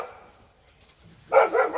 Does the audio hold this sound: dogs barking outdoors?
yes